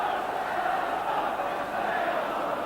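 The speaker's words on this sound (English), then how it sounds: "Certainly Parkhead well filled, the crowd anticipating an exciting cup tie" A football crowd fills Celtic Park (Parkhead) for a 1992 cup tie against Morton, a steady, distant roar of murmuring voices and chants with no distinct peaks.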